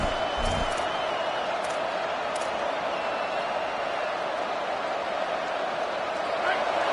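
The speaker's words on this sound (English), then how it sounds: "These fans are going absolutely nuts." Stadium crowd in a college football video game against Georgia, roaring steadily and loudly for the whole stretch as a dense, unbroken wash of cheering.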